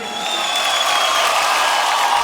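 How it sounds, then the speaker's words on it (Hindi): An audience at the IIFA Awards 2025 ceremony applauds with a steady wash of clapping and crowd noise that swells slightly and holds, with no one speaking over it. "जोरदार तालियां हो जाए"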